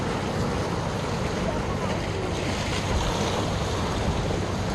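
Ocean surf on a Korean beach, a steady broadband wash of breaking waves with wind buffeting the microphone, continuous and fairly close with no clear gaps.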